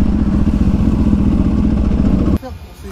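A motorcycle engine rumbles steadily and loudly during a touring ride, with a low clattering drone and road noise that cuts off sharply near the end, leaving a quieter hum.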